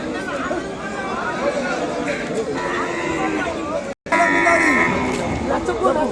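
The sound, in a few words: cow mooing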